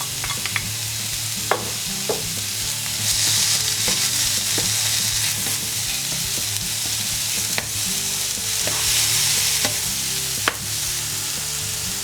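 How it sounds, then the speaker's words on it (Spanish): Chopped zucchini flesh sizzling in a hot pan while being stirred, a constant close frying hiss broken by occasional scrapes and clicks of the utensil against the pan. "Ahora ponemos la carne que hemos sacado del calabacín"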